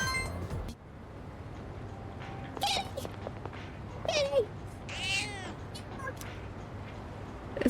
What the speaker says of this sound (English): The cat is purring loudly.